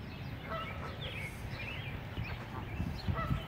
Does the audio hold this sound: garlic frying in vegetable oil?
no